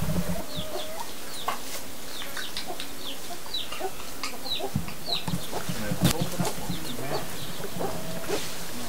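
Chickens in a shaded green yard cluck and chatter continuously, with scattered sharper calls and bird chirps over a steady outdoor background, fairly close and moderately loud.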